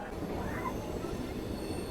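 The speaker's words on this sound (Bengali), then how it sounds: "এই মুহূর্তে আমাদের লোকাল ট্রেন ছেড়ে দিল পুরীর উদ্দেশ্যে খুরদাওয়ার জংশন থেকে" A local train pulls out of Khurda Road Junction bound for Puri, heard as a soft, steady rolling rumble with faint high wheel squeal, fairly distant and low in level.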